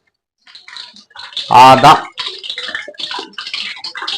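Hot oil sizzles in a pan ready for frying chilli beef pakoda, a bright crackling hiss under and between a person's speech.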